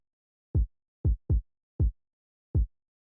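Five dry, punchy individual drum hits without added processing, short low thuds in an uneven sequence, each one isolated and separated by silence.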